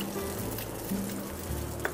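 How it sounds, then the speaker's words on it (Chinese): Ham tossed with egg, shallots and garlic in a hot wok for fried rice gives a soft, steady sizzle with faint stirring scrapes, quiet and close, no voices. "然后蛋要熟不熟的时候，你可以把火腿进来稍微炒一下"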